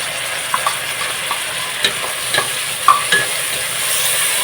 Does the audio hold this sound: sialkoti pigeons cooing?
no